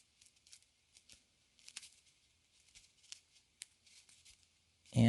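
Origami paper being folded into a dog, giving soft, quiet crinkles, rustles and crisp little creases in scattered bursts, close up and with no talking, until a louder thump lands at the very end.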